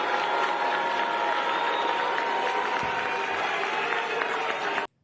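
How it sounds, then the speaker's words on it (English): A large indoor crowd at an FDNY New York City summit roars in sustained, dense noise that reads as booing mixed with clapping, loud and continuous for about five seconds before cutting off abruptly. "She's getting booed."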